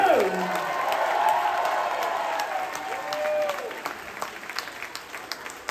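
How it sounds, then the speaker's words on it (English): A concert crowd applauding and cheering for the crew at The Slowdown in Omaha, a burst of clapping and whoops that thins out over a few seconds, with a voice briefly heard over it. "I want a massive round of applause for the crew"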